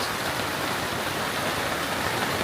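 Heavy rain pours off a roof in a steady, dense wash of broadband noise, loud and close, with no talk and no break across the whole stretch.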